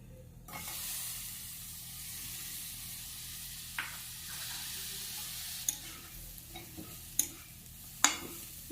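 Grated coconut frying dry in a pan, a soft sizzle with a spatula stirring and scraping, giving a few sharp clicks toward the end.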